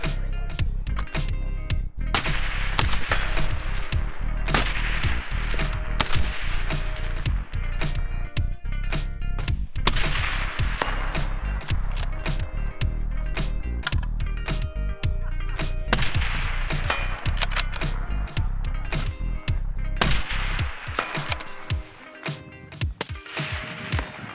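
Rifle shots at an outdoor mid-range shooting range, a continuous series of sharp cracks fired in rapid succession over sustained loud background noise, with no talking.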